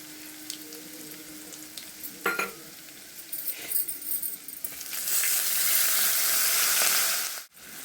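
Dried red chillies dropped into hot oil for a pepper rasam, frying with a steady loud sizzle that swells after a few seconds, with a couple of light utensil clinks near the start.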